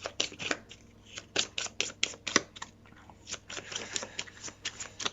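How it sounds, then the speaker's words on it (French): Pile of Aeon's End board game cards being reshuffled by hand, a quick series of crisp riffling and slapping bursts, close and fairly quiet with no talking. "on va remélanger la pile"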